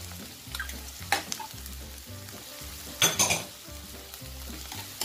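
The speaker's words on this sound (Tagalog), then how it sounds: "Lagay natin ang luya. Gisa-gisa ng konti." Ginger sizzling and being stirred in a hot pan for beef pares, a steady close fry with a few sharper bursts of stirring and scraping, no talking.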